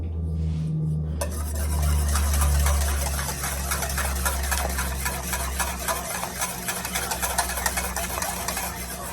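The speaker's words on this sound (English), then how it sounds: "So I am just going to just put a little bit of the egg mixture in while whisking." Whisk beating an egg mixture into warm milk in a pot, a steady rapid metallic scraping and clinking rhythm running close and continuous after a low hum at the start.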